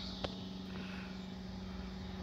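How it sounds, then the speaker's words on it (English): Faint, distant drone of an airplane passing overhead above a garden, with a low steady hum throughout the short stretch. "And the plane going by."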